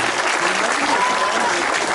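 Loud, sustained applause from a Turkish association gathering in Ankara as the Mamak mayor is invited to the podium, dense and steady for the whole stretch with no gaps.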